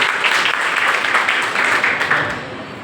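Loud, dense applause from a crowd at a National Service Scheme (NSS) camp at Munger University, a strong continuous clapping that fades slightly at the end.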